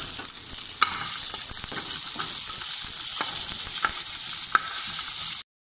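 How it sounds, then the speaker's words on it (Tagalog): Garlic and onion sauté in a small amount of cooking oil for Filipino beef caldereta, giving a steady close sizzle with occasional stirring clinks and scrapes throughout. "Dito na rin tayo magigisa. Na natin yung ating bawang. Natin yung ating sibuyas."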